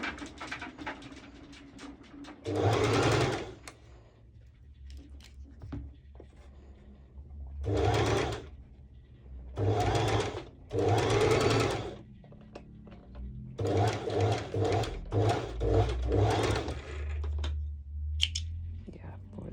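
A sewing machine stitches a DIY swimsuit with mesh cut-outs, running in several bursts of a few seconds each with quiet pauses between them, close up and fairly loud, with fabric handling in the gaps.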